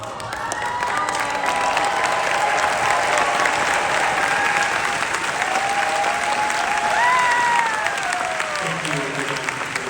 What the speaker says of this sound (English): Thank you again for the round of applause.